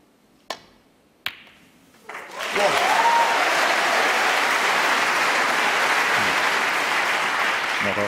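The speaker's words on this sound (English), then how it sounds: "Not often you get a terrific round of applause for a pretty straightforward shot" Snooker crowd at Alexandra Palace during the Masters bursts into a loud, sustained wall of applause after a couple of sharp ball clicks, the clapping swelling in and holding steady to the end.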